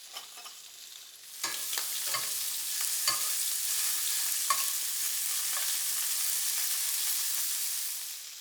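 Plump shrimp searing in a hot pan for shrimp scampi, a loud, steady hiss of sizzling that bursts in suddenly and holds, with a few crackles and pops near the start, then eases slightly at the end, with no talking.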